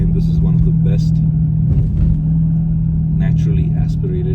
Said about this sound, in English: natural sound of this engine is just beautiful